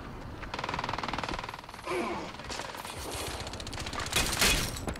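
Rapid bursts of gunfire in Crysis 2 multiplayer crackle in dense, continuous volleys, with a sharper crash of shots near the end, loud and busy like a battle.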